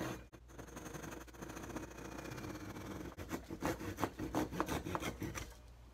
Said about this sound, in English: This is a pull saw, so it cuts when you pull.